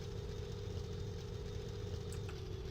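An aircraft engine in the Minecraft modpack Deceasedcraft throttles, giving a steady, close, droning hum with a low rumble and a constant mid-pitched tone, and no voices.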